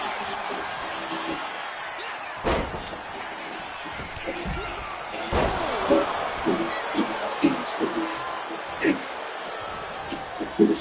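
Loud arena crowd in the WWE 2K25 wrestling video game, a steady roaring wash under excited commentary, with sharp slams and impacts punctuating the noise every few seconds.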